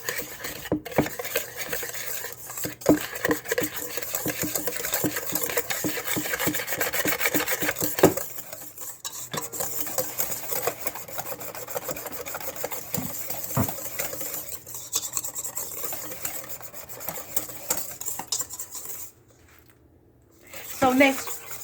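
Funnel cake batter being stirred and mixed in a bowl, a steady scraping, rubbing rhythm that runs continuously for most of the time, pausing briefly near the end before a few final scrapes.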